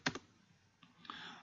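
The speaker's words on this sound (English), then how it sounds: "we're gonna clear the screen and type" A few quiet keystrokes on a computer keyboard, with two quick clicks at the start and a softer patter a moment later.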